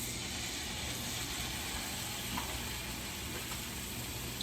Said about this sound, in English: You're gonna hear that sizzle a little bit.